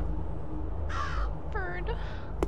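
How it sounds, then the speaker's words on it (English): Crow-like bird cawing in the video game Root of Evil: The Tailor: two harsh caws, the second split into quick bursts, heard over a low steady ambient drone. "Bird."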